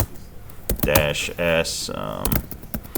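Keys tapped on a computer keyboard while entering a hidden password during a computer science lecture, a short close burst of clicks mixed with a person talking.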